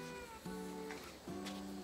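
A cat meows twice in short, drawn-out calls, faint and somewhat distant over a steady background hum.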